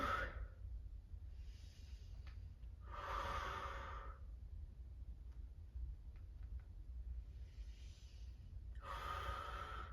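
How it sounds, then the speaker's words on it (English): Several deep exhales and breaths taken during a stretching exercise in a sprint-interval workout with active recovery; a few broad, airy bursts a few seconds apart, close and moderately loud over a low steady hum. "Inhale as you go up a little bit. Exhale as you go a bit further down."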